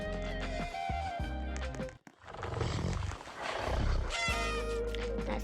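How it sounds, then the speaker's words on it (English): A tiger growls and roars, a deep, rough, sustained rumble over a few seconds, mixed with a musical background in a guess-the-sound game. "That's the tiger. It literally growls."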